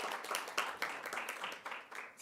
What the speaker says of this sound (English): can we give another round of applause for the panelists?